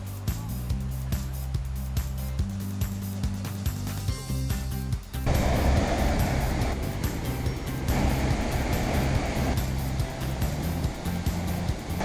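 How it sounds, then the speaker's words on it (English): Roar of the La Paz waterfall in Costa Rica, a broad, loud and continuous rushing wash that comes in after a few seconds and holds steady. "We made it to the waterfall."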